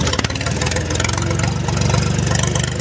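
A Massey Ferguson tractor runs in a field with its damaged silencer removed. The engine gives a loud, raw, steady pulsing rumble and clatter, close up throughout, with no voices.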